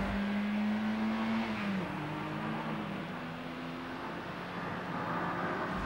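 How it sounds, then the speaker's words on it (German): A 1977 Renault R14 accelerating from 0 to 100 km/h, its engine droning steadily from inside the car, with a tone that rises, drops at a gear change and climbs again under constant road noise. "Beschleunigungsmessung von 0 auf 100."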